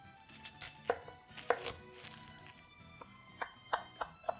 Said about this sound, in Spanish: Cortamos la cebolla morada en julianas muy finas.